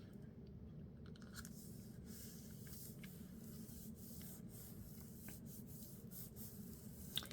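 Soft, steady rubbing and creasing of paper being folded into a simple pocket, close and continuous with a few faint crisp taps, no voices.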